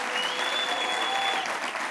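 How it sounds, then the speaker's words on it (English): A final round of applause from the audience for ten founders at The Big Pitch 2025 qualifier in Johannesburg, a steady, dense wash of clapping with a faint whistle riding over it. "I want you to give a final round of applause for our 10 participants this evening"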